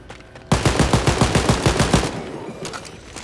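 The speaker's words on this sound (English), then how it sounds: "Okay, I'm shooting down this road." Automatic weapon fire in the shooter game Wolfenstein Youngblood, a loud rhythmic burst of about a dozen evenly spaced shots over a second and a half, trailing into fainter echoing shots.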